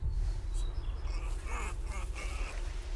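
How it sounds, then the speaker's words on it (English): A duck quacks repeatedly within the game The Quarry, a few short calls over a steady low ambient rumble, moderately distant, with no talking. "It's probably nothing. It's a duck."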